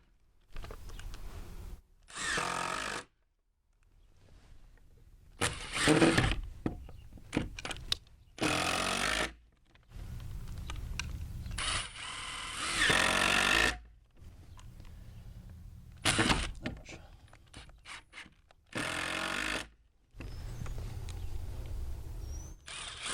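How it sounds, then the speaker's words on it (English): Screws driven into a wooden gate with a power driver, a series of separate whirring bursts a second or two long with pauses between, fairly quiet and close, with no talk. "So I'm just going to put the rest of these screws in."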